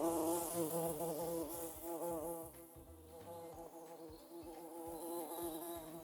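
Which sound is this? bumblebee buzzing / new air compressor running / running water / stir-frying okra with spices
bumblebee buzzing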